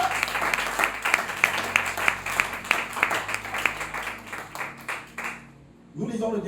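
A church congregation breaks into brisk, rhythmic clapping with voices mixed in, the applause steady and lively before it stops abruptly and a voice resumes.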